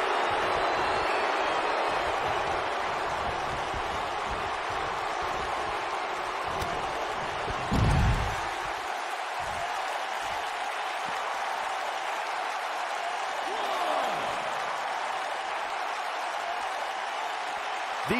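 In the video game WWE 2K19, a large wrestling-arena crowd roars and cheers continuously at a steady, somewhat distant level, with a brief thump partway through and faint commentary beneath.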